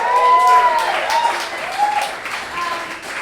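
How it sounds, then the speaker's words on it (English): Audience applause at a live stage show, a dense wash of clapping with a few high whoops and whistles over it, steady for about three seconds before easing slightly. "one more round of applause."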